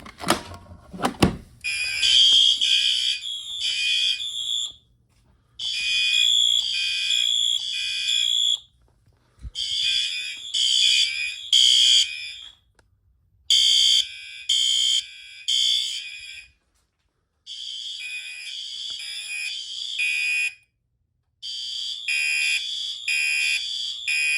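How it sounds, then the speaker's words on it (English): A loud fire alarm blares in repeated electronic bursts separated by short pauses during a system test, preceded by a brief clunk as the pull station is triggered. "Lift it up and pull the alarm."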